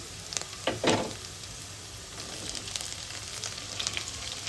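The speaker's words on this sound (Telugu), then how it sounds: "ఉల్లిగడ్డలు అయితే మంచిగా నూనెలు అయితే వీటిలో ఫ్రై అయిపోయినాయి మనం ఇలా దొండకాయలు వేసుకుందాం" Sliced ivy gourd dropped into hot oil with already-fried onions, a sharp burst of sizzling at the start that settles into a steady, close crackle of frying, with no voices.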